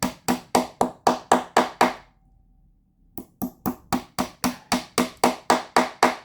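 Steady, sharp hammer blows drive nails while dining chairs are being recovered: a rapid run of about eight close, ringing strikes, a pause of roughly a second, then another quick series of evenly spaced taps, with no voices.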